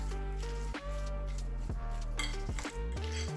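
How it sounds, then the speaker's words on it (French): A spoon stirs a salted, peppered mixture in a pan, giving a few soft clinks and scrapes under steady background music. "Et on remue."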